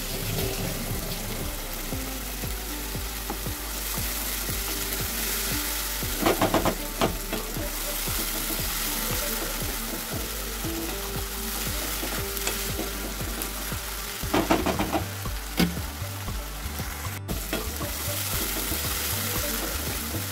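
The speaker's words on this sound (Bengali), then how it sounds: "পেস্টটা দিয়ে নাড়াচাড়া করতে থাকবো, মশলাটাকে ভালো করে ফ্রাই করতে হবে" Ginger, green chili and tomato paste fry in a pan with a continuous close sizzle, with two bursts of spoon scraping and stirring partway through and no talk.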